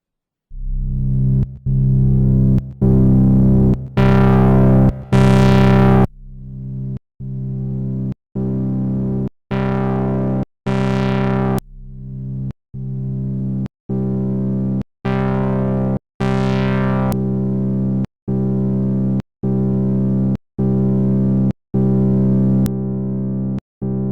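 A patch on the Bazille software modular synthesizer, with two FM modulations and white-noise modulation of the filter cutoff, plays a loud series of sustained, buzzy notes cut by short gaps, some with sweeping bright filter rises.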